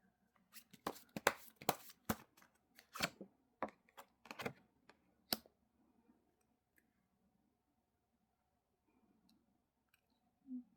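Tarot cards are shuffled and flipped open up close: a quick run of soft, crisp snaps and riffles, then a long near-silent stretch with one faint rustle at the end.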